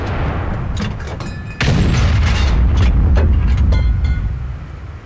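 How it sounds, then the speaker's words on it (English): A Type 5 Heavy tank cannon booms once in a World of Tanks battle, a heavy blast over a rumbling engine and clanking tracks, with scattered metallic clicks around it. "Shooting in move with locked turret."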